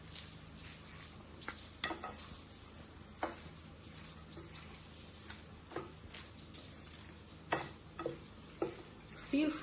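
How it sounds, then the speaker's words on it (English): Lettuce salad being tossed with dressing, a steady soft rustle and squish of leaves with irregular light clicks of utensils against the bowl, close and moderately quiet. "we are going to incorporate this wonderful dressing into our salad, guys. So you want to mix."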